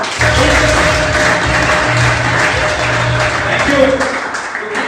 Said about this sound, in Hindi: जितने लोग यहाँ बैठे हुए थे अपने लिए जोरदार ताली बजाएं।